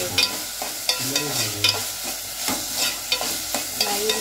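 Gram flour curry frying in a pan for dosa, a steady close sizzle broken by repeated scraping stirs of the spoon against the pan.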